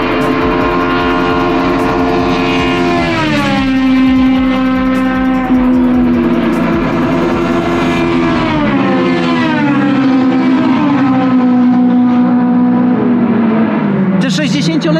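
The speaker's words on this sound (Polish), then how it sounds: "Te 60-letnie samochody kręcą do 12 tysięcy i zapieprzają tutaj po 200 km na godzinę" 1960s race cars at Fuji Speedway revving hard, their engines screaming and shifting through rising and falling pitch sweeps, loud and close throughout with a fresh burst of revving near the end.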